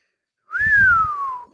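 A single rising-then-falling whistle from one person, close and clear, reacting to a bold claim about a UFC lightweight fighter, with faint breathy mouth noise under it.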